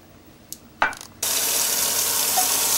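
Tap water gushes into empty tomato sauce cans being rinsed at a kitchen sink, starting abruptly after a few small clinks and running steadily and loudly to the end.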